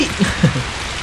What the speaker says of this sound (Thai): ฝนตกหนักด้วย